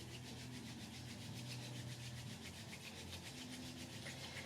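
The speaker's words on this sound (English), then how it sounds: "Rub the hands, create a little friction," Palms rubbed briskly together for friction and warmth in a calm ritual setting, a faint, even, continuous swishing rasp with a steady back-and-forth texture and no talking.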